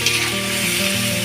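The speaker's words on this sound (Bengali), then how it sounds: "এবার আমি মশলাটা ভালো করে কষিয়ে নেব।" Spice paste of turmeric, ginger and garlic frying in oil for a soybean curry: a continuous close, loud sizzle with faint stirring, no talking.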